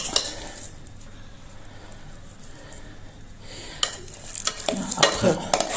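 Mashed potatoes are spooned as a fresh layer into a hachis parmentier dish: a quiet stretch gives way to close, busy scraping and clinking of a utensil against the dish.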